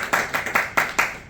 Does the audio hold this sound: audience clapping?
yes